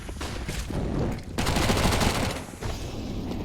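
Rapid Mac-10 submachine gun fire during a competitive video game match, loud bursts of automatic shots overlapping and stopping briefly before resuming.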